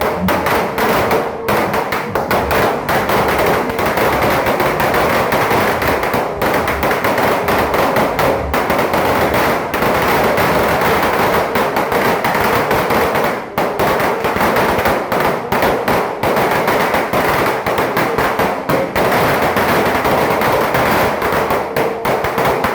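A dense, continuous barrage of New Year firecrackers crackles and pops loudly with no pause, sharp bursts overlapping throughout.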